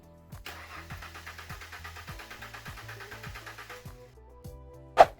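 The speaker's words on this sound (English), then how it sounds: "Now I turn the engine over a few times and check the pressure." A Ford Mustang engine cranks over during a compression test, rapid rhythmic chugging from the starter for about four seconds, then stops, followed by a sharp click.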